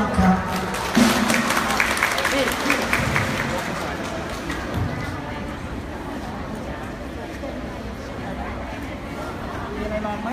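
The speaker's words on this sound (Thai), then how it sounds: "ขอเสียงปรบมือดังๆครับ" Audience applause welcoming a national artist to a concert with a band, loud at first and then thinning into a lighter, steady patter of claps and crowd murmur.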